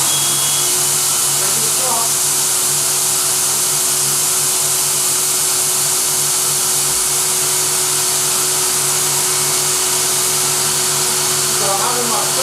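A Versaspa automated spray tanning booth sprays through its nozzles in a loud, continuous hissing rush that runs unbroken for the whole stretch, with a steady mechanical hum beneath.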